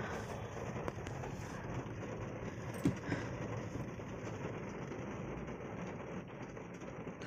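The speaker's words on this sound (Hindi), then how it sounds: "ऊपर गाड़ी की छत से भी आवाज़ आ रही है बारिश की बहुत तेज" Heavy rain pounding on a car roof in Jaipur, a steady dense hiss of drops heard from inside the vehicle, with a single sharp tap standing out partway through.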